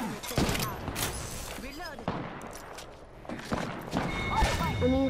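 Gunfire in a shooter video game, bursts of rapid shots and scattered thuds mixed with game effects and voices.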